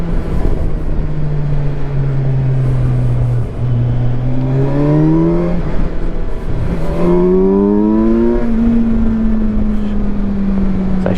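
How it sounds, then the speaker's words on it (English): Kawasaki Versys 1000 SE touring motorcycle engine and exhaust, a close, steady drone that rises in pitch as it revs through the gears, dips briefly, then climbs again. "But listen to that exhaust."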